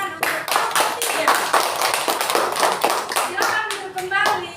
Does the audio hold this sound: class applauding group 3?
yes